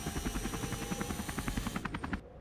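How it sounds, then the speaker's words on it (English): A mini helicopter in the video game Fleeing the Complex, with a steady rapid chopping rotor thud throughout that cuts off abruptly near the end. "Mini helicopter."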